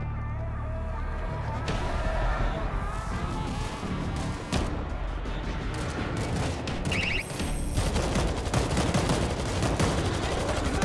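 Rapid bursts of automatic gunfire from an auto turret in the World War Z video game rattle on continuously, loud and dense, mixed with other game effects and a voice speaking.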